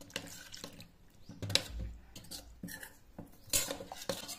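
Cornflour batter with salt and water is stirred in a bowl, steady scraping and clinking of a spoon against the sides with a few sharper knocks and a brief pour of water.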